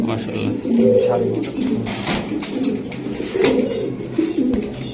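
Racing pigeons coo repeatedly in soft, throaty bursts close by, a steady cooing chorus running throughout.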